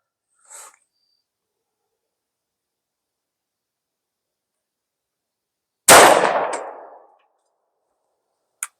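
A Grand Power P40 10mm semi-auto handgun fired from half cock gives a single sharp, loud report that rings out and decays over about a second, with faint small clicks before and after in otherwise near silence.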